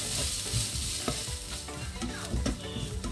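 Finely chopped onion sautés in hot oil for Kerala-style puttu, with continuous sizzling and crackling under repeated scraping and stirring strokes, loud and close.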